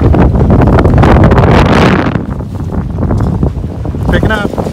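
Tropical storm wind gusts against a boat tied at a dock, a loud, continuous roar of wind buffeting the microphone that eases slightly midway, with faint indistinct voices underneath.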